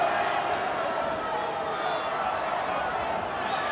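A big wrestling arena crowd at a WWE show roars in a steady, dense wash of cheering and chatter, heard from a distance with no single voice standing out.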